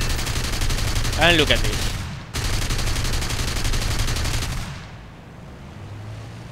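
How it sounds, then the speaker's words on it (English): Machine guns on a Bf109F4 fighter in the flight game War Thunder rattle out a loud, rapid continuous burst that breaks off briefly and then resumes. A voice speaks over the firing partway through. "open up with machine guns just to range."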